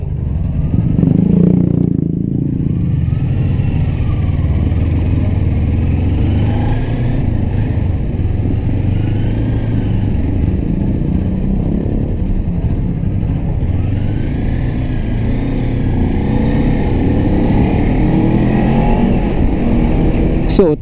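A Modenas Ninja 250 motorcycle being ridden through traffic gives a continuous engine drone with wind rush. The rider talks over it, and the engine rises and falls gently with a brief rev near the start.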